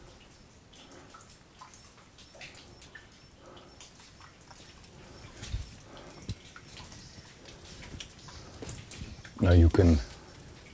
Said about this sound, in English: see and hear these raindrops falling down through the limestone